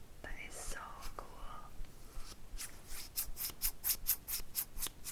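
Multi-blade kitchen scissors with five blades are handled close up. Soft whispering and light rubbing come first, then a steady run of about ten crisp, clicking snips.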